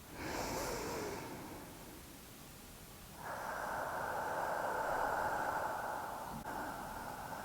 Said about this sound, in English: just take a couple of deep breaths